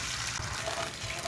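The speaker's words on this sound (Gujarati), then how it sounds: "તો હવે આપણે કડાઈની અંદર 1 વાટકી પાણી ઉમેરીશું।" Water pours from a bowl into a hot kadai holding a sugar-and-chili tempering for Surti sev khamani, a brief close splashing rush with sizzling mixed in and no speech.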